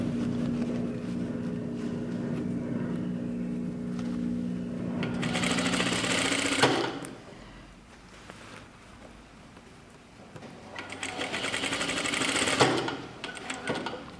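A sewing machine stitches a shirt collar in two loud, fast whirring bursts, separated by a quieter pause with faint handling sounds, heard up close.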